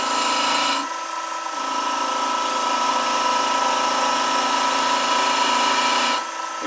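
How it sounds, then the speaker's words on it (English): A bench grinder spins steadily at about 1800 RPM, working the rusty, black-painted head of a hatchet, loud and close with a continuous whine and a brief change in tone as the metal makes and breaks contact. "I think 1800 RPM is the standard grinder speed,"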